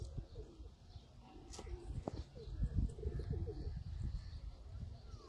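Pigeons of show breeds such as teddy and golden pigeons coo in soft repeated low phrases, close by, with occasional chirps and faint background sounds.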